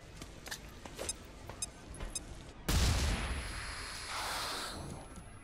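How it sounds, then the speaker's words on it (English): A flashbang grenade going off in the video game XCOM: Chimera Squad, a sudden loud booming burst after some quieter clicks and taps, followed by a lingering rushing tail. "let's just flashbang this dude"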